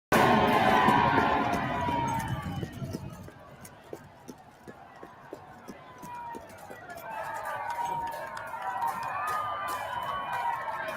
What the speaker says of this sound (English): so expect a crowd.